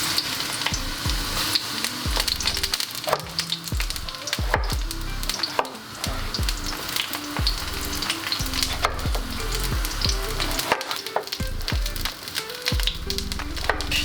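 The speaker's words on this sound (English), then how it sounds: "So firstly, I'm frying the bacon." Continuous crackling sizzle of bacon frying in a pan, with frequent small pops and occasional clinks, no voices.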